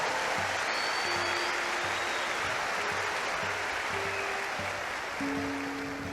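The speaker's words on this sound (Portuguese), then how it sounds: "pode aplaudir e agradecer a Deus." A church congregation applauding during a sermon by Father Duarte Lara, a steady, even wash of clapping heard throughout at moderate distance, with faint tonal background sounds underneath.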